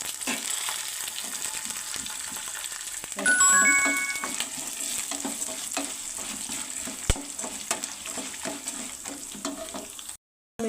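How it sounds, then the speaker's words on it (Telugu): Cashews and dried red chillies fry in hot oil for temple-style pulihora, a steady close sizzle with occasional stirring scrapes throughout, ending in a brief pause; no voices. "అన్నింటినీ కలిపి దోరగా వేయించుకొని తీసుకోవాలండి."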